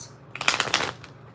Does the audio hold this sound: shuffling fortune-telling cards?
yes